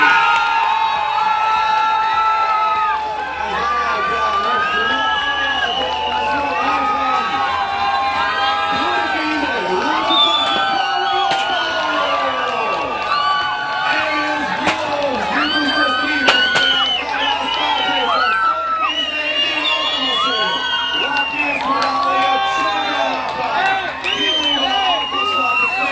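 A crowd at a karting academy final awards ceremony cheers, whoops and shouts continuously for the winners, a dense, steady wash of voices with children's shrieks and scattered yells throughout.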